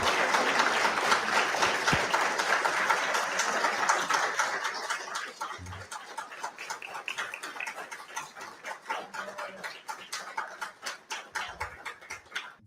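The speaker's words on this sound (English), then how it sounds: "Thunderous applause." Audience applause at a congressional UFO hearing, dense clapping that starts full and gradually thins into scattered individual claps, moderately distant in a large room.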